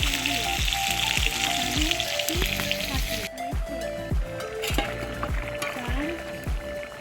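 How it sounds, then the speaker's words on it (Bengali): Steady, loud sizzling of fish frying in a hot pan, with a repeating low knocking rhythm underneath, continuous throughout. "কড়াই বসে দিয়েছি দিয়ে মাছটা ভেজে নিচ্ছি"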